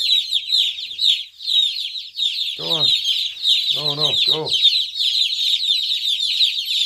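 Chickens cluck and squawk in a few short bursts over constant high chirping birds, with a person speaking briefly in between.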